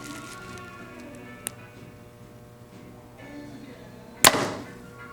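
A PSE Mach 30 compound bow shooting an arrow through a chronograph, a quiet lead-in with a faint tick, then one sharp loud snap of the release and a brief ringing decay.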